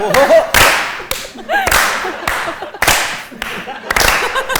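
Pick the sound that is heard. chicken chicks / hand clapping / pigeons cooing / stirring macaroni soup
hand clapping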